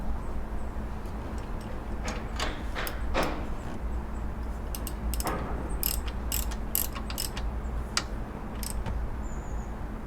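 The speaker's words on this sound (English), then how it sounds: "I'm going to tighten the tension bolt, the locking nut up underneath now" A locking nut on the alternator tension bolt of a Subaru Impreza being tightened with a ratchet, giving a run of short, crisp metallic clicks in loose bursts over a steady low background hum, fairly close and moderately quiet.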